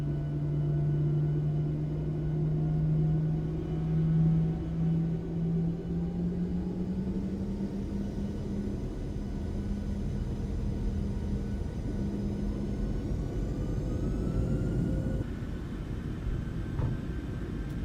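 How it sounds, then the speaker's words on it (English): Boeing 737-800 jet engines spooling up for takeoff from a runway in Microsoft Flight Simulator 2024, a steady loud rumbling roar with rising whine tones that swell and shift across the run. "Let's listen to those engines spool."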